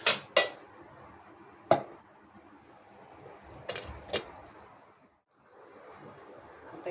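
Fried ghevar is lifted out and placed into a vessel, giving a few sharp clinks of metal utensils against cookware, loudest at the start and again midway, over a quiet kitchen background without speech.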